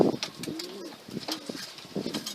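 Breeding pigeons cooing in a loft after raising three chicks, a few soft throaty coos close by with light rustling between calls.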